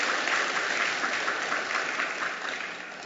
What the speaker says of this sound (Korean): 우리 하나님께 박수로 영광 드리겠습니다